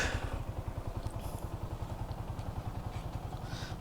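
A Yamaha R15-M MotoGP edition motorcycle engine runs at a steady idle, with an even, rapid low thumping pulse from the exhaust, moderately close and with no voices.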